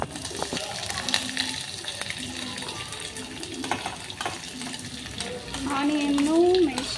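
Onions and green chillies frying in a pan for a yellow sambar, giving a moderate sizzle with stirring clinks and scraping, while a voice speaks briefly and a rising hum swells near the end.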